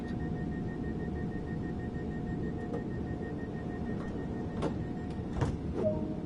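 Train doors working in Train Sim World on the East Coastway line, with a steady low cab rumble and hum, followed by a few sharp clicks and a short chime-like tone near the end.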